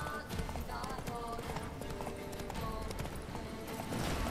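Horse hooves clip-clop steadily in The Witcher 3, a continuous trotting rhythm under game music and ambience, with someone talking over it.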